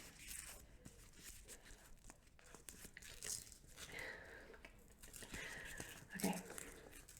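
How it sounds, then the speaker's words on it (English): A paper seed envelope of basil is torn and crinkled open, with soft scattered rustling and a brief louder rip near the end, close and quiet in a calm room. "Apparently I'm now rubbish at opening envelopes."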